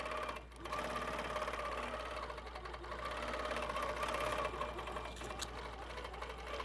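An HQ Pro-Stitcher longarm quilting machine stitches an edge-to-edge pattern across a quilt, its steady rapid needle chatter running continuously and fairly close, with no talking.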